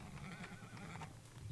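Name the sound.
horse neighing in the video game Teardown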